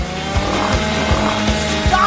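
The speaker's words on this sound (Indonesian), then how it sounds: "Singkirkan gergaji itu sekarang." Power saw cutting through a Twix chocolate bar, a loud buzzing engine-like whine with regular pulsing bursts roughly every third of a second, running continuously and close.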